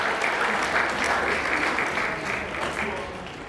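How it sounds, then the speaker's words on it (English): An audience at a cultural day celebration applauds continuously, with dense clapping holding steady and easing slightly toward the end, and some voices mixed in. "Please clap for them."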